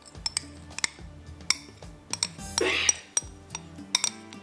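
Condensed milk being stirred in a bowl for a dry fruit dessert, heard as repeated light clinks and taps of a utensil against the bowl, close up and irregular, with a short stretch of denser scraping in the middle.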